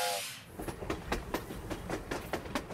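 A steam hiss opens a train-building video game scene, followed by a rhythmic series of sharp clanking pulses like a train chugging, moderately loud with no voices.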